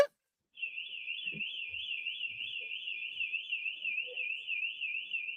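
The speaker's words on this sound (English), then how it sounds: "I need them to fix that alarm, okay? Because that's kind of annoying." An exit door alarm sounds continuously, a shrill warbling electronic tone that starts after a brief silence and keeps going at steady loudness, with faint thumps and rustles underneath.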